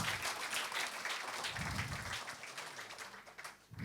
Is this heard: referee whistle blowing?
no